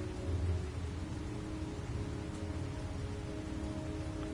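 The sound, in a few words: rain falling in a video game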